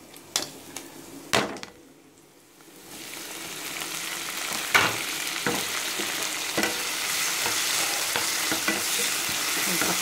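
Onions and tomatoes sauté in a pan for potato and butter beans gravy: a few sharp spatula knocks, a brief lull, then a loud, steady close sizzle broken by intermittent stirring clatter.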